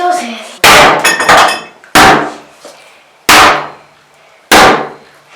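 Demolition blows knocking a heavy bathroom door off its hinges: four loud, sharp impacts spaced about a second apart, each with a ringing, rattling decay, nearby and close to the listener.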